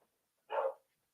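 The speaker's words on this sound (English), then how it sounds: "my dog's barking like crazy outside" A dog barking outdoors, heard as one muffled, distant burst picked up faintly indoors.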